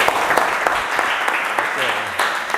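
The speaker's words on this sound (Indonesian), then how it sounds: "Kita berikan aplaus untuk Ibnu." Audience applause during a lecture session on handling tuna fish, a brisk burst of clapping filling the room, steady and fairly loud for a few seconds.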